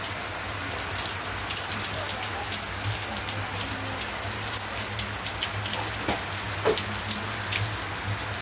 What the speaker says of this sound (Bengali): কি জোরতে বৃষ্টি নেমে গেছে আর আকাশটা পুরো মেঘ করে আছে